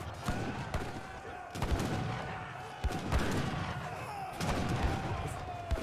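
Cannon fire in an Age of Empires 3 video game battle, several sharp booming shots a second or so apart over a continuous dense din of gunfire and battle noise.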